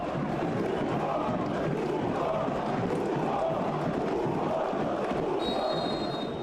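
A packed football stadium crowd chants insults at striker Yuri Alberto, a dense, loud, sustained roar of many voices with a rhythmic swell and a faint whistle near the end.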